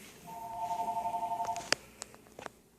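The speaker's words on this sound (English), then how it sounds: "I had a phone call" A telephone rings with a warbling electronic trill lasting over a second, followed by a few short clicks and taps, fairly quiet.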